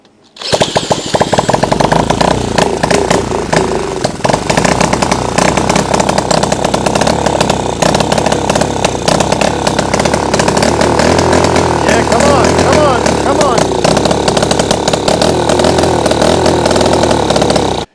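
A revived, previously seized engine running after a carburetor idle adjustment, a loud continuous buzzy rasp that holds steady throughout, with a voice in the clip.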